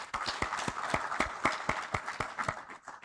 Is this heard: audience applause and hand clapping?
yes